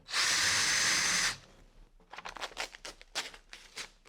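A power drill bores through a timber gate while fitting a long-throw euro cylinder gate lock, loud and steady for about a second before stopping, followed by scattered lighter knocks and handling sounds.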